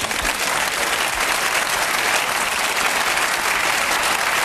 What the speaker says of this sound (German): das gibt Applaus